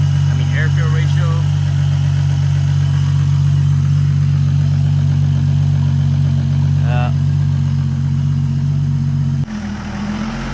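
A Toyota Altezza's 1JZ engine run on a Link ECU idles steadily and loud, a constant low drone, with someone talking over it before the engine drops off near the end.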